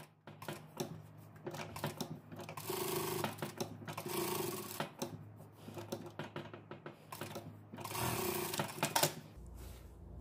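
A sewing machine lays a 0.5 topstitch on a denim dress using topstitch thread, producing fast rattling runs with a few pauses and some handling noise.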